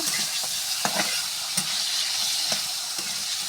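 Dal seasoned with turmeric, cumin and salt stir-fried in a pan, a steady close sizzle broken by several sharp scraping stirs of the spatula, with no voices.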